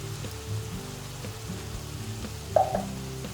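Tomato added to a hot pan of lentil bolognese with wine, giving a steady close sizzle with a brief louder splash and hiss partway through.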